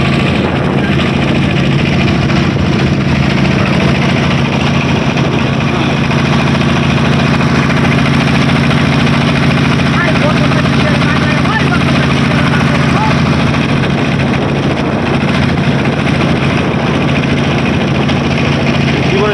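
A boat engine drones continuously while passengers ride along, a loud, steady low rumble with constant vibration and no letup throughout.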